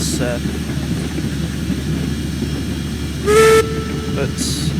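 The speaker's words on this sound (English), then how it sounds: "if you just heard the exhaust sound without actually seeing the engine moving" A Climax geared steam locomotive in the Railroads Online video game, its rapid exhaust beat blurring into a continuous hissing rumble, with a short whistle blast cutting through near the end.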